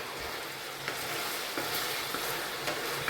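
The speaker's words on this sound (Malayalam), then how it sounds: "അപ്പോൾ പെട്ടെന്ന് നമുക്ക് വറുത്തെടുക്കാം" Steamed chicken pieces fry in a little oil for a chicken roast, giving a continuous soft sizzle with small pops and stirring taps, close but fairly quiet.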